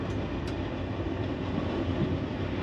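French overnight sleeper train running on rails, a steady rumbling roar with faint clicks and light squeals, heard from inside a carriage without any talk.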